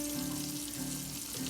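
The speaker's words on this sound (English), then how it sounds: "I dipped it in egg and then I rolled it in flour and put it in my skillet" Pork chops, dipped in egg and rolled in flour, fry in hot grease in a skillet with a soft, steady sizzle that runs close and quiet for a moment, with no voices.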